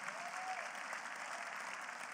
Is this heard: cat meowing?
no